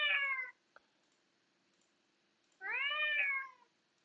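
A cat meows twice, each a clear drawn-out cry separated by a couple of seconds of near silence with one faint click between.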